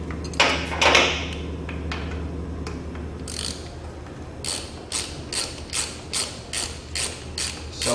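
Socket and breaker bar loosening nuts on a motorcycle stabilizing-system install, a run of sharp, evenly spaced ratchet-like clicks following a few heavier mechanical knocks and creaks, close up with no talk.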